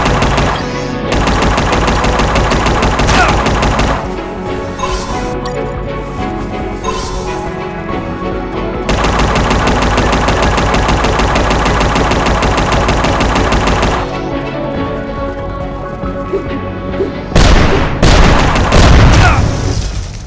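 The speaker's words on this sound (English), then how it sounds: "You destroyed my machine gun!" Sustained machine gun fire from a boss encounter in the video game UnMetal, long loud rattling bursts with short pauses and booming impacts near the end.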